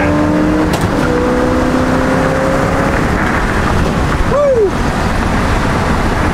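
A loud classic-car Ford 302 V8 engine roars steadily up close, revving hard with rising and falling pitch, the noise constant and dense throughout.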